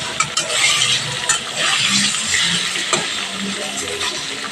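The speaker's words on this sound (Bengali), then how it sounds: "এখানে একটু ভেজে নেবো হালকাভাবে" Paneer fries lightly in a pan with a steady, close hiss and soft sizzle throughout, a few faint scrapes along the way.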